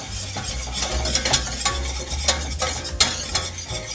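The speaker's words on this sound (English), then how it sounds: "I'm going to be adding the flour now, and I'm going to be whisking the flour as I add it inside." Flour whisked into a hot pan, producing quick, busy scraping strokes with faint sizzling, close and continuous with no voices.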